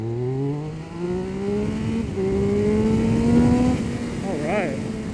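2022 Triumph Speed Triple 1200 RS motorcycle accelerating hard from 20 to 80, its engine note rising through several gear pulls with brief dips at the shifts, close and loud under wind noise and a rider's voice.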